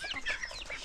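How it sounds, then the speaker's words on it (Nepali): A rooster and hens on a village farm in Sindhupalchok, Nepal, cluck in a quick busy run of short calls, fairly close and fairly loud, with no talking. "ओरिजिनल भाले कस्तो छ"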